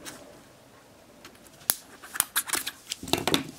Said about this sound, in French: Je vous fais des fentes avec mon ciseau.